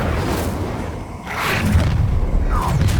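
A fiery whoosh and boom from the Incendio fire spell cast during a duel in Hogwarts Legacy, set against dense, continuous combat rumble and clutter.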